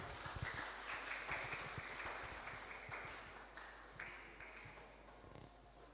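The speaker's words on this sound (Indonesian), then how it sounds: "Beri tepuk tangan." Faint, scattered clapping from guests at a Christian wedding ceremony right after the couple is declared married, light hand claps that thin out over a quiet room with a soft tone.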